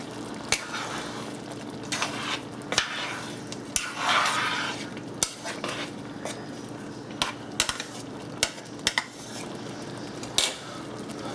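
Salisbury Hamburger Helper heating in a pot is stirred now and then, with scattered metallic clinks and scrapes of the utensil against the pot over a low background hiss.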